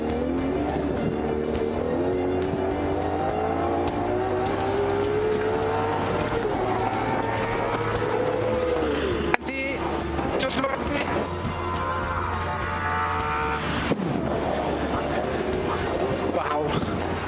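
A 2022 Ferrari 812 Competizione V12 engine revs hard and climbs in pitch, with abrupt drops at each gear shift, loud and close throughout.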